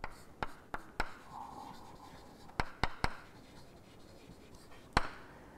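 Chalk or marker strikes a board during a maths lecture on complex numbers, giving sharp, close taps in quick clusters of two and three with a brief scratchy stroke between them, over a quiet room.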